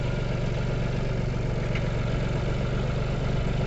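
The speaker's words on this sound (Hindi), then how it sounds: "ये गिटार मशीन चलाने में जो डीजल वो बहुत ही कम लगता है दूसरी गिटार मशीन से की ये थ्री सिलेंडर का और ट्रैक्टर के इंजन है" A road grader powered by a three-cylinder diesel tractor engine runs at a steady idle on a construction site, a continuous low rumble with light clatter that stays constant and close throughout, with no voices.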